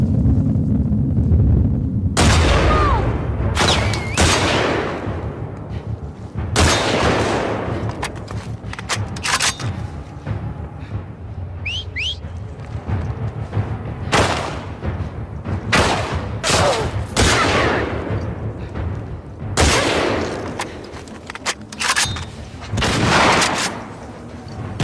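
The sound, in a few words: gunfire in the video game The Last of Us Part 2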